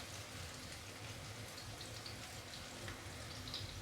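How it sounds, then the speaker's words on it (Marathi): Long thin strips of onion sauté in hot oil for a chapati noodles dish, giving a steady soft sizzle and crackle that runs evenly throughout at low volume with no talking. "कांदा कापा आणि मग तो तेलामध्ये असा छान परतवून घ्या"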